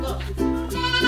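Goats bleating while being loaded onto a truck, a short wavering call heard close over steady engine rumble, with a voice faintly beneath.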